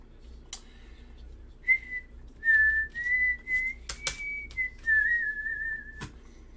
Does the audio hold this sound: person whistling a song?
yes